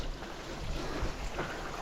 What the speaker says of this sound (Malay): Sini ada lagi air terjun.